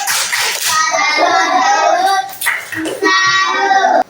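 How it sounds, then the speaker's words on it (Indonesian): A second-grade maths class performs a rhythmic tepuk salut cheer, with loud chanted children's voices and clapping hands in short bursts, close and energetic, briefly pausing before a final phrase. "Tepuk salut untuk Marco."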